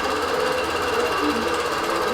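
A longarm quilting machine stitches a pantograph row, giving a steady, fast mechanical rattle that runs continuously and fairly loud throughout, with no talking.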